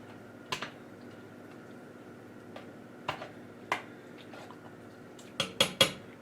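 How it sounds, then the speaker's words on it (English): Pork chile colorado stirred in a pot, a spoon giving sparse sharp knocks against the metal, with a quick cluster of clinks at the end over a quiet hum. "Stir once more."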